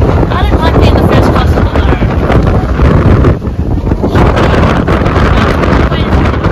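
Wind buffets the microphone on Takeshita Street in Harajuku, Tokyo, a loud, constant low rumble that swells and dips throughout, with voices talking beneath it.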